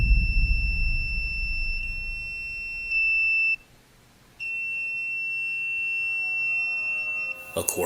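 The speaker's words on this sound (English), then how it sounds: "the 360 goes into alarm as it detects movement" A 360 motion detector placed on a table in a music room goes into alarm, sounding steady high electronic beeping tones that stop briefly and resume, with a low rumble of handling noise at the start.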